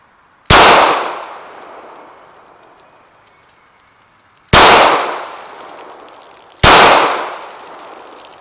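Three loud, sharp gunshots from a rifle fired at a target outdoors, the first one alone and then two more close together, each ringing out with a long decaying echo.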